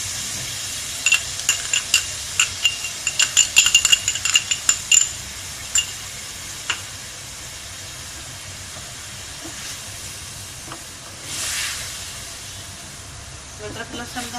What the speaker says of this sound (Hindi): अब इसमें हम ये अदरक लहसुन का पेस्ट डालेंगे।